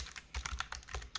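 A new folder is being named on a computer keyboard, with rapid, soft key clicks in an irregular burst of about a dozen taps. The typing is close and quiet, with no talk.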